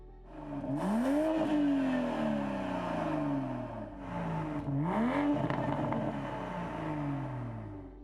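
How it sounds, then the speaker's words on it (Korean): A 2021 BMW M340i xDrive Touring with a sports exhaust revs hard twice, each rise climbing to a loud, raspy roar before falling back, with a steady rumble between the pulls. "스포츠 배기 시스템도 갖추고 있습니다. 소리는 이렇게 바뀌고요."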